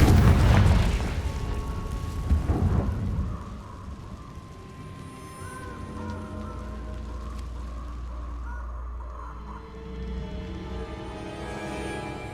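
A Confringo fire spell goes off in the Hogwarts Legacy video game, opening with a deep booming blast that fades into a long low rumble with faint game ambience.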